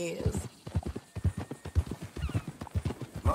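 Horse hooves clip-clop in Red Dead Redemption 2, a quick, regular run of distinct close hoof strikes at walking pace, carrying on for the whole stretch with low background sound.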